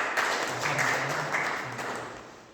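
A church congregation at a Sunday service in Bielefeld, Germany, breaks into steady, dense applause that fills the room evenly, with a faint voice murmuring underneath.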